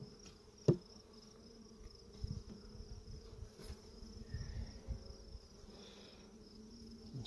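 Honey bees hum softly during an open hive inspection, with a faint, steady drone carrying under a few knocks and clunks of handling.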